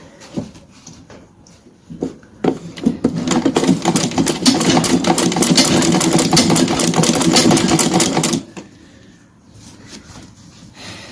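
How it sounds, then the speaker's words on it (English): A sewing machine topstitches a welt pocket flap for a tailored suit jacket, running in a close, loud, rapid rattling burst of about six seconds between softer handling noises before and after. "so I'm going to top stitch it first to secure it down."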